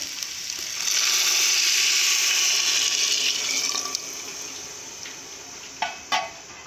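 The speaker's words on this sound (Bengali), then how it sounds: "দু বাটি চাল নেওয়ার কারণে আমি 4 বাটি জল দেব।" Measured water pours from a bowl onto rice for basanti polao, four bowls for two of rice: a loud, close splashing gush lasting a few seconds, then a few brief trickles and drips.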